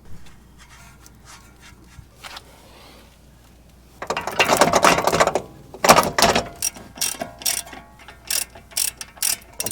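Ratchet clicks in quick bursts while strut bolts are tightened on a Subaru STI, a busier stretch of metallic mechanism noise in the middle, close and fairly loud with quiet gaps between.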